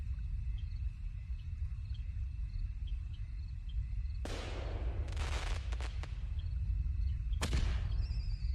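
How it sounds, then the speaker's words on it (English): Fireworks going off in the video game Doll Imposter: a sudden sharp burst followed by a cluster of rapid crackling pops, then one more bang a couple of seconds later, over a steady low background hum. "those are just fireworks"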